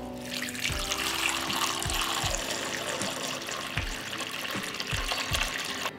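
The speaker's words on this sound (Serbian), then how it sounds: "I u šerpu ću sipati vodu." Water runs steadily from a tap into a large pot holding closed glass jars set on a cloth, a continuous close gush with occasional low knocks underneath.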